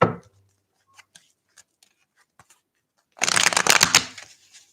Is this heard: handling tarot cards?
yes